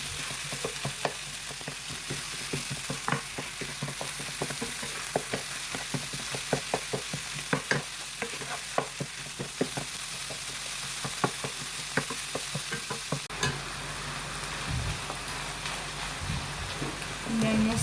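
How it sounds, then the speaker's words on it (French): Minced meat with onions and peppers frying over low heat while being stirred, a steady soft sizzle punctuated by many quick clicking scrapes of the utensil against the pan, quieting near the end. "Je laisse tout ça sur feu doux tout en remuant ma viande hachée."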